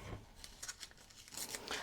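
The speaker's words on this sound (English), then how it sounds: "I'm tearing this." Paper strip torn by hand for scrappy junk-journal ephemera: a few short, crisp ripping bursts, close and fairly quiet, with no talking.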